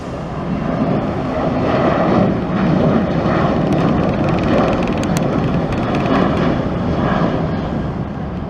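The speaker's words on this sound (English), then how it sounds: "prepared to rotate and take on the skies to Orlando." A Southwest airliner takes off for Orlando with a loud, continuous broadband engine roar that holds steady and slightly swells as it climbs away.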